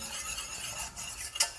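A roux cooks in a pan on a gas flame, a soft sizzle under gentle stirring scrapes, ending in a brief metallic clink of utensil on pan.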